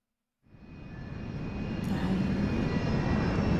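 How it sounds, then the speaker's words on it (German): An airplane in the video game Resident Evil 6 roars in from silence, its engine drone building steadily louder and fuller as the aircraft closes in, with no voices over it. "Flugzeug!"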